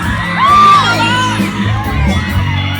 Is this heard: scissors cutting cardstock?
no